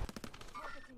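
A rapid burst of gunfire cracks in a Call of Duty: Warzone crossfire, about five quick shots followed by fading echoes and faint game sounds, with a voice barely present.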